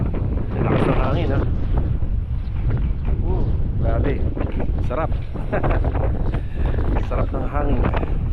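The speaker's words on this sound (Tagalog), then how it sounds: "Lakas ng hangin" Strong wind buffets the microphone in a steady, loud rumble while people talk over it, outdoors at a housing project site in rainy weather.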